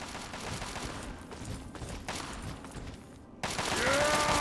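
Steady rattling gunfire in Fallout 3's Broken Steel DLC near the White House Plaza, a continuous dense fusillade with a brief dip before a louder swell at the end.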